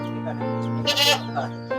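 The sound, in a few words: male goat bleating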